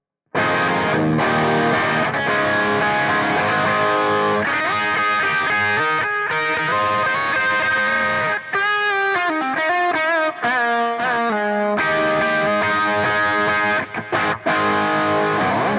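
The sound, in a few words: electric guitar solo, overdrive, reverb, delay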